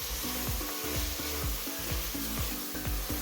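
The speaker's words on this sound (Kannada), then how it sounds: "ಸ್ಟೋವ್ನ ಲೋ ಫ್ಲೇಮಲ್ಲಿ ಇಟ್ಕೊಂಡು ಚೆನ್ನಾಗಿ ಬಾಡಿಸ್ಕೋಬೇಕು" Tomato pulao masala sizzles on a low flame in a pan with chili powder and coriander powder, as a spoon stirs it in a steady, close, rhythmic pattern over continuous frying hiss.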